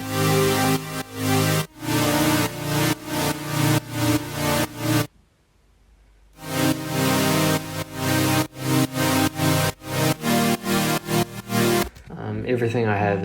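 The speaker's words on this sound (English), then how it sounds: "we have the main super saw stacks and the main drop, so they sound like this" Big future bass supersaw chord stacks from a main drop pulse in loud, rhythmic chopped bursts, with a short silent gap midway and a glitchy, filtered tail at the end.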